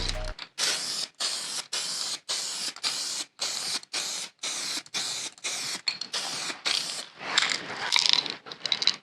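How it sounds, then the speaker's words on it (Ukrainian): An aerosol can sprays epoxy primer onto a car body over filler in many short, evenly spaced hissing bursts, close and steady, each separated by a brief pause. "З балончика наноситься один-три шари."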